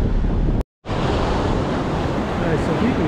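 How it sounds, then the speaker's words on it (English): Ocean waves break on a beach at Bribie Island in a continuous roar mixed with strong wind buffeting, and the sound cuts out briefly near the start. "You can hear the waves there."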